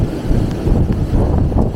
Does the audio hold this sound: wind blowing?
yes